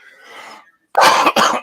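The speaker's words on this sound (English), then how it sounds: "Still a tiny bit of a cough." A person gives a couple of sharp, close coughs in quick succession, loud against a quiet indoor room, after a brief stretch of soft breathing.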